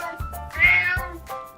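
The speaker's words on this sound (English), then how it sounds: "a purple cat" A cat's meow sound effect rises into a clear, drawn-out mew, preceded and followed by soft short chirps, close and moderately loud with no other sound.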